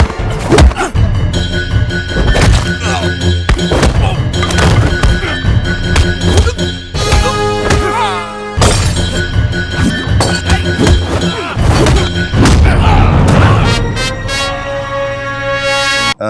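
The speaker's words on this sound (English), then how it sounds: "You explained that shot of Chinna pole hitting." A pole-hitting sound effect from the Telugu film Shiva: loud, repeated thwacks and heavy impacts land in a rapid rhythm, mixed with dramatic film music and resonant tones.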